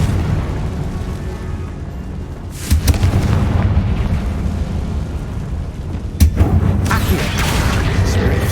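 Confringo blasting spells burst in Hogwarts Legacy, two sharp explosive hits a few seconds apart over a steady rumbling game backdrop.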